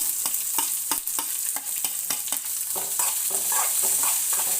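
Onions and green chillies fry in oil, sizzling steadily close up while a utensil scrapes and stirs the pan in repeated strokes, with no talking.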